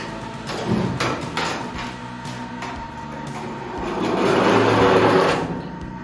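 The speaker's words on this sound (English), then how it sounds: "I can winch stuff up" Electric winch in a garage lifting car parts such as a fender up to an attic level, a whirring motor drone with clanks and rattles, growing louder toward the end, no speech.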